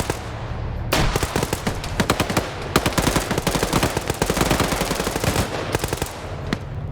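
Sustained machine gun fire in a PvP tactical shooter match, a steady barrage of rapid close bursts with scattered single shots layered in, loud and continuous with no talk.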